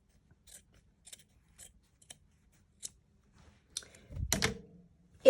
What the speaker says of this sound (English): I'll get my fabric scissors.